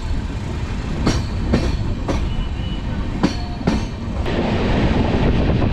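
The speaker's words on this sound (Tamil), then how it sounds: "இப்போது சீர்காழியிலேருந்தும் ட்ரெயின் ஸ்டார்ட் ஆகிடுச்சு" The Chozhan superfast express, heading from Chennai Egmore toward Kumbakonam, rolls out of Sirkazhi with a steady rumble. Sharp rail-joint clicks strike at irregular intervals, close and loud, with no talking.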